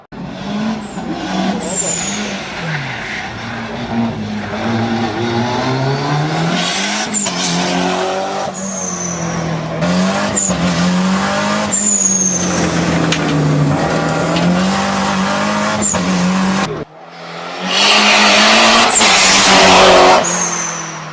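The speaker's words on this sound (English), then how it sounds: "it's like a rally car hill climb" A rally car on a hill climb revs hard, its engine rising and falling through gear changes, with repeated tire squeals and skids, loud and close, then a brief drop before roaring again.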